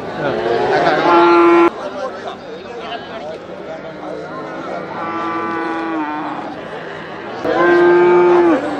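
Cattle mooing at the Punjai Puliampatti cattle market, loud drawn-out calls near the start and again at the end, with people talking and market chatter in between.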